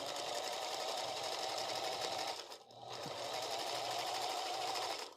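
A sewing machine runs steadily and close by, sewing pieces together in a dense, continuous whir broken by one brief pause midway before it picks up again.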